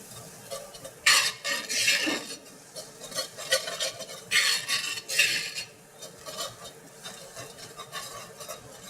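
Flour being stirred into melted butter for a roux, with a utensil scraping and clinking against the pan in uneven bursts of close, fairly loud stirring over a faint background sizzle.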